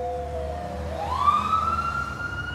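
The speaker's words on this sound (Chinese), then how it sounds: "救护车呼啸而来，把陈伟林带回了好久没有拜访过的医院。" An ambulance siren wails, its tone sweeping upward and holding high over a low road rumble, close and fairly loud, with no voices.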